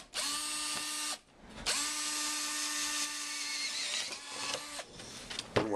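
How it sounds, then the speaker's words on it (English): Drill boring through the center of a plastic bowling pin, heard close as a loud, steady whine that stops briefly and restarts, ending in rattling and scraping. "what I'm going to do is just going to try to drill right through the center part here."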